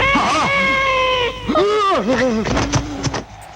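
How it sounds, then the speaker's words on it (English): A loud, drawn-out cat meow followed by several shorter, wavering meows close by, with no talking. "they hear a cat meow, and she dies immediately"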